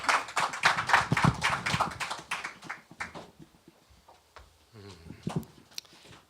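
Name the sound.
audience round of applause at a seminar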